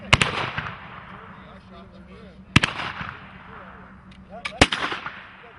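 Sharp shotgun blasts at an outdoor turkey shoot, three loud reports spaced a couple of seconds apart, with faint talk and background murmur between shots.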